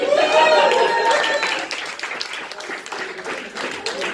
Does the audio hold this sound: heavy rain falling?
no